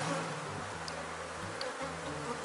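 A honeybee swarm in a hive box hums with a continuous, dense buzz, close by and fairly quiet, with individual bees droning in and out over the steady drone.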